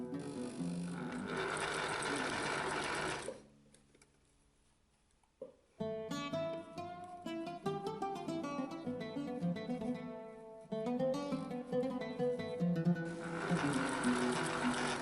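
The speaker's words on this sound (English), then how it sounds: "when you do stop with the sewing machine and the needle is in the upright position" A sewing machine stitching a fabric face mask runs in a steady mechanical whir, stops for a couple of seconds of near silence, then restarts in rhythmic stitching bursts, close and clear with no speech.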